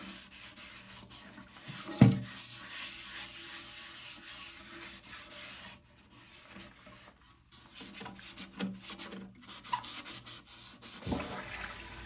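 A sponge rubs stains from the inside of a toilet tank, giving soft continuous wiping and rasping strokes with a sharper scrub near the start, close and moderately quiet.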